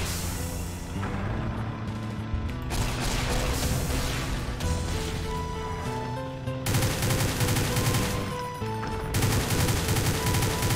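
Gun in the Doom 2 map set NOVA: The Birth blasting repeatedly, dense loud volleys rolling one after another with heavy low thuds, playing alone with no talk.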